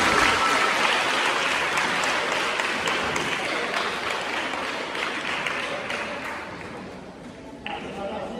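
A crowd at a community health event for World Menstrual Hygiene Day bursts into loud, sustained applause, with many hands clapping together and thinning slightly toward the end, plus a brief change near the close.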